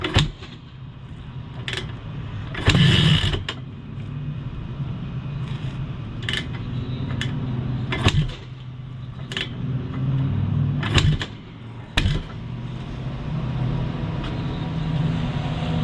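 Repeated kick-start attempts on a big bore two-stroke engine, with sharp thumps and brief sputtering bursts spaced through a steady low rumble, close and fairly loud, with no talking.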